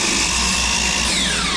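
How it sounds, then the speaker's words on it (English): Compound miter saw slicing through EPDM rubber, a loud continuous whine held steady for a second and a half with a few low thumps underneath, close by and without talk. "check if compound miter works on EPDM"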